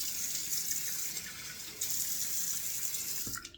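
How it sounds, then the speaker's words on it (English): A bathroom tap runs cold water into a sink for splashing during a wet shave with a DE89 safety razor, a steady close hiss and patter of flowing water with slight shifts in intensity and no talking. "Just turning on the cold water now to give a couple of splashes of cold water."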